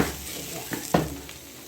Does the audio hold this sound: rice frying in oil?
yes